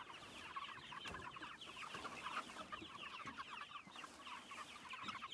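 Cornish Cross chickens in a chicken tractor on grass cluck continuously as a flock, a faint, busy chorus of soft overlapping clucks and chatter.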